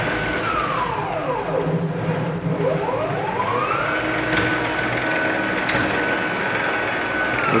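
A sailmaking machine whirs steadily as sail cloth is rolled through in stages, with a continuous mechanical hum, rising and falling tones that sweep like gears spinning up and down, and a sharp click partway through.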